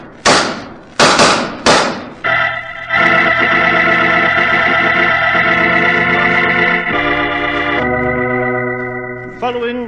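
Revolver shots trade back and forth in a radio drama scene: three sharp loud cracks in quick succession, followed by a sustained ringing, droning musical sting that shifts pitch partway through.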